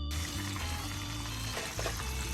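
IKEA meatball spring rolls frying in a pan of hot oil, a steady, dense sizzle throughout with a brief bubbling surge near the end.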